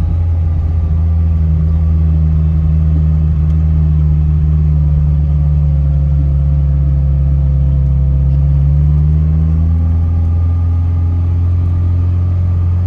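A vintage Ferrari with a manual transmission driving steadily, its engine a loud, constant close-up drone with a slight pitch shift partway through, no voices over it.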